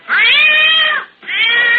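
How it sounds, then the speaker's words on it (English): A cat gives two loud, drawn-out snarling yowls, the first about a second long and the second following after a short gap, with no voices, staged as a radio drama sound effect. "And a cat jumped up snarling."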